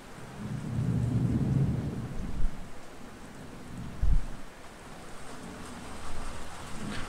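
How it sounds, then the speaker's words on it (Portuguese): Heavy rain pours steadily while deep thunder rolls, building early on, with a couple of sharp booming claps and softer rumbles later, and no one talking. "Aqui também tá chovendo pra caramba."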